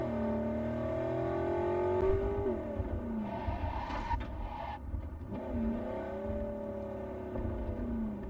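A car engine in Cyberpunk 2077 revs and roars as it drives, pitch rising and falling with acceleration, followed by a rough rumbling clatter of impact midway before the engine drone resumes.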